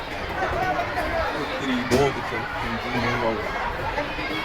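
A dense crowd at the Wet N Joy water park entrance, with steady overlapping chatter and hubbub all around, a voice speaking nearby and a brief sharp knock partway through.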